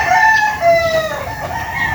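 A rooster crows once, loud and close, in a single drawn-out call lasting about two seconds.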